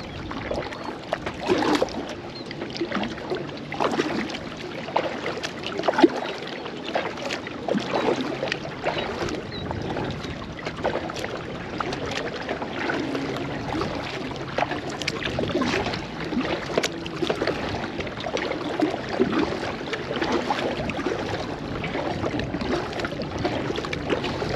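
Paddle strokes and water trickling from a Pelican Argo 100X angler kayak with Carlisle Magic Mystic paddles, a steady rhythmic splashing close by with light wind noise over the water and no talk.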